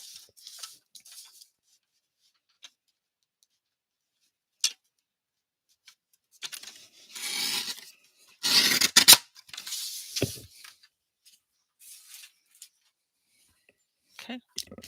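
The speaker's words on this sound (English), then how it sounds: "Gonna just trim this edge off real quick." Scissors trim the edge of a paper tag in a few close snips and rasping cuts between stretches of quiet, including a denser cluster of cutting in the middle.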